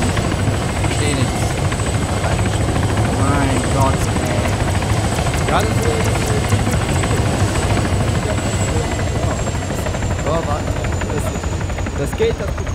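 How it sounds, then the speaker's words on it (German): In the video game Arma 3, a helicopter flies overhead with a loud, continuous rotor roar that stays strong the whole time, while voices talk over it. "Jetzt fliegt hier jemand noch im Helikopter, ey."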